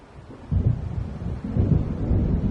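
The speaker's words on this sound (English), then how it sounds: "It seems there's a storm coming." Thunder from an approaching storm in Alan Wake Remastered: deep, rolling low rumbles swelling in two or three waves, fairly loud and continuous, with no voices.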